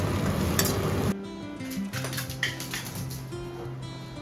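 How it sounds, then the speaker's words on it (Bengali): Sizzling from onions frying in a home kitchen pan, with a short stir and clink of cookware, loud at first and then settling into a quieter crackle with a few faint utensil taps. "পেঁয়াজটা ভাজা হয়ে গেছে"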